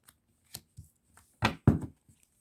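Playing cards are cut and set down on a table: a few soft taps and shuffles, then two close, crisp slaps of the deck landing one right after the other.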